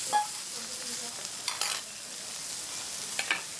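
Squid, shrimp, scallop, oyster, noodles and pork belly sizzle on a hibachi grill at a restaurant, a steady close hiss broken by a few clinks and scrapes of a spatula.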